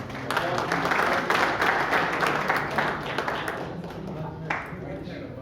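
A hall audience at a Jain poets' gathering in Chhattisgarh breaks into sustained, dense applause after a poem recitation, a steady wash of many hands clapping close by that eases slightly toward the end.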